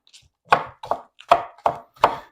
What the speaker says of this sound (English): Just slice these up fairly thin.